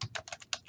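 Computer keyboard being typed on while entering an email address, a quick close run of about six crisp key clicks within under a second.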